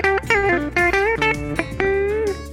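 A Telecaster-style electric guitar on its Joe Barden bridge pickup in the low position plays a quick run of clean, bright single notes and short bends, close and alone.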